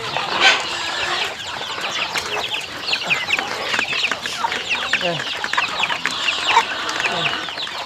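Chickens on a backyard farm cluck and squawk in busy overlapping bursts, fairly close, with a brief bit of talking mixed in.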